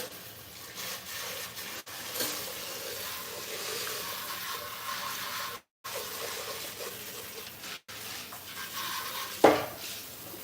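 Dishes shuffled around a kitchen sink to clear space, a continuous low clatter and rustle of crockery with water-like wash, a couple of brief dropouts, and a sharper clunk near the end.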